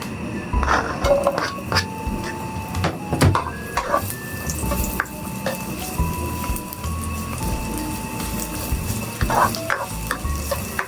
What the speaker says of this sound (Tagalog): Igisa lang natin maayos para lumabas yung aroma ng sibuyas, bawang at saka ng luya.